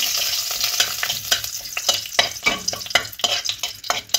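Bay leaf and dried chilli fry in hot mustard oil with a bright crackling sizzle. Irregular spits and pops rise and fall, and the sounds of stirring come through close up.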